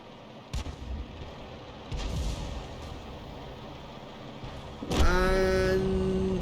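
An artillery gun in World of Tanks fires in a few heavy booms, and the last shot is followed by a rising mechanical whine and ringing tones that fade out.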